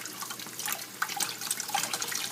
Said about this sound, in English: Now I'm washing the sweet potato.